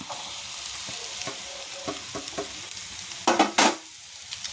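Rice tossed together with egg and black pepper in a frying pan, giving steady scraping stirs over a soft sizzle, with a few louder, brighter scrapes near the end; no one speaks.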